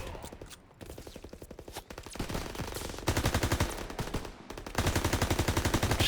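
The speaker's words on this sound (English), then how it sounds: "Just firing like a madman." Sustained machine gun fire in the World War II shooter Call of Duty: WW2, with an MP40 submachine gun in use: long rapid bursts of steady rattling shots broken by short pauses, fairly quiet and without talking.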